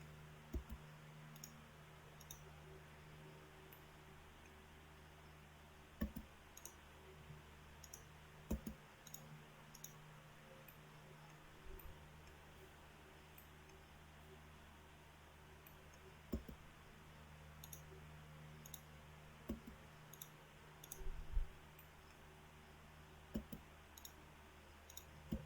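Computer mouse clicks sound as faint, sharp, isolated taps spaced irregularly over a quiet background, sometimes in quick pairs.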